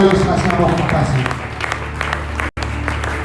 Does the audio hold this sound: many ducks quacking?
no